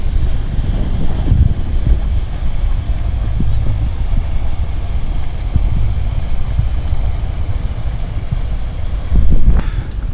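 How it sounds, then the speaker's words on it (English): Three motorboat engines on the River Trent rumble low and steady as they pass, mixed with wind buffeting the microphone, with a louder swell near the end. "it's not often that 3 boats come all at once"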